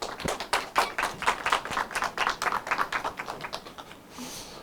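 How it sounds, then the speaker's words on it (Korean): A small lecture audience claps to welcome a guest speaker at a talk on performance and exhibition content, with distinct individual claps in a brisk, fairly sparse rhythm that fade out at the end. "박수로 맞아주시기 바랍니다."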